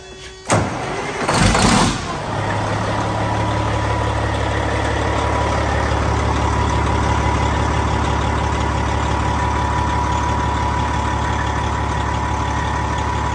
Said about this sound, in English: Let's go crank it up.